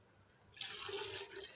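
Reserved cooking water is poured into a pot of simmering black chickpeas (kale chane), a sudden, steady splashing gush that starts partway through and continues close and loud with no voices.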